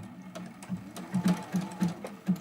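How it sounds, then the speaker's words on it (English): A sewing machine stitching a short run of zigzag test stitches on a scrap piece, a close, moderately loud series of rhythmic thumping clicks in quick bursts. "let me just pull out my little test piece and do a couple little stitches"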